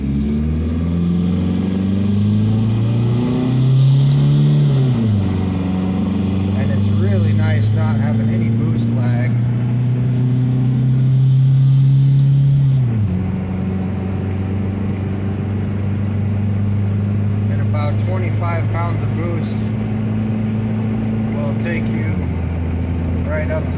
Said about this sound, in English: rev it up high enough, it will keep the boost up and gives me the most decent acceleration I can get out of it.